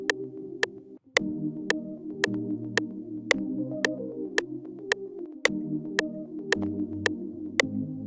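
An Afrobeat pattern plays from the Afro Labs plugin, with sharp regular percussive ticks over layered sustained chord tones that shift every few beats, steady and moderately quiet, with no voices.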